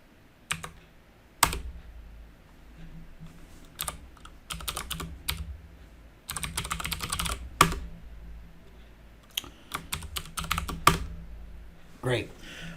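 Typing on a computer keyboard comes in bursts of quick, close key clicks separated by short pauses, with no talking.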